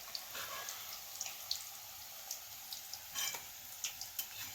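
Alu vadi, colocasia leaf rolls, frying in hot oil give a soft, steady close crackle and sizzle with small pops, fairly faint and without talk.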